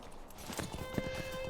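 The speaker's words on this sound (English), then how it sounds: "let's jump on my horse for this" A horse's hooves clip-clop in quick, even steps in the online game Lord of the Rings Online (LOTRO), a faint, short run of footfalls with a steady game tone behind it.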